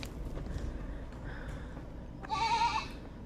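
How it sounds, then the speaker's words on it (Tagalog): Goats on a hillside farm bleat, with one clear, nearby bleat rising briefly near the end over faint background noise. "Ang marami po dito ay kambing."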